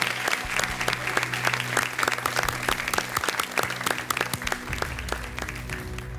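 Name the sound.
studio audience applause welcoming Amol ji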